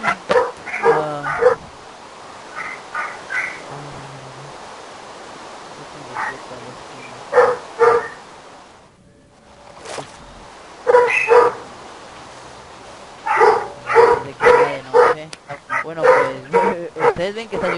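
Several bursts of dog barking and yelping in the video game Minecraft, coming in short clusters with quiet gaps between them, over a faint background hiss.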